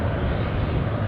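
An Eastern Airways airliner departs from Aberdeen Airport, heard as a brief, loud, steady engine roar that carries alone for about a second.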